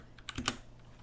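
A brief, quiet burst of keys being struck on a computer keyboard during a TypeRacer typing game, a few quick clicks bunched within half a second.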